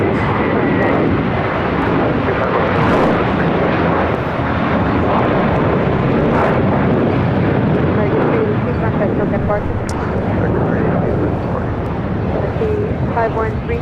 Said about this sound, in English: We just had a China Airlines cargo 777 freighter touchdown here on 25 left.